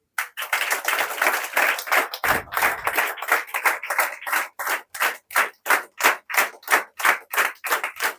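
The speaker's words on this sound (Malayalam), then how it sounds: "ഓപ്പൺ ചെയ്യണമെങ്കിൽ നിർത്താതെ കൈയടിക്കണം" Steady hand clapping from an inauguration audience, in a brisk regular rhythm that briefly falters, then settles into distinct, evenly spaced loud claps.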